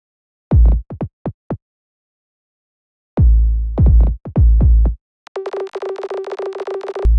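A soloed kick drum from the Electro drum machine with a shortened decay, playing short, deep booming thumps in sparse groups, then a denser run of clicky, pitched percussive hits, all dry and alone without speech.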